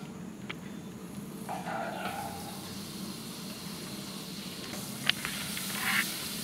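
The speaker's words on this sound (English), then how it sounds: "And then we are adding butter once the pan is heated. I am adding butter." Butter melts in a heated thick-bottom pan on the fire, giving a soft, steady sizzling hiss with a few faint clicks. It sounds close but quiet, and no one talks over it.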